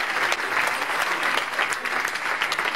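An audience at a sports champions awards gala in Carry-le-Rouet claps steadily, a dense, even wash of applause from a crowd heard at moderate distance, with no talk.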